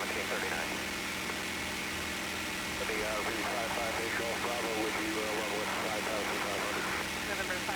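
A P-51 Mustang (TF-51) engine drones steadily and loudly in flight while the throttle is eased back, with voices talking over the constant roar.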